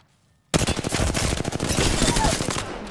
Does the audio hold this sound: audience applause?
no